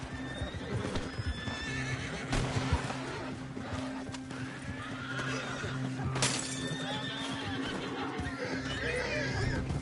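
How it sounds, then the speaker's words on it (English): In the Red Dead Online video game, a restless horse whinnies and neighs several times amid clip-clopping hooves, with brief crashing sounds and game voices talking in the background. "Can't seem to calm this horse down."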